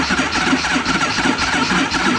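A 1974 AMF Harley-Davidson Shovelhead 74 cubic inch engine cranking over on the starter without firing, a steady loud mechanical churn with a faint repeating pulse throughout.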